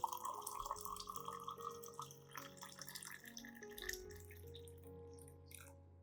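About 500 milliliters of hot water poured into a glass, a faint trickling, gurgling stream with a rising tone as the glass fills, alone without talk.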